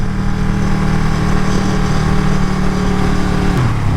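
A Ducati 959 Panigale motorcycle engine holds a steady, loud drone while riding during break-in, kept below 6,000 rpm, with its pitch dropping slightly near the end as it eases off.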